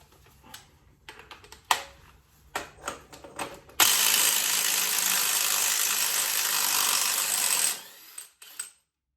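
A tool removes the flywheel bolt from a Classic Mini 1275 A+ engine: a few sharp clicks and ratcheting taps, then a loud, continuous mechanical whir lasting about four seconds before it stops, close up.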